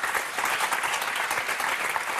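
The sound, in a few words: studio audience applause on game show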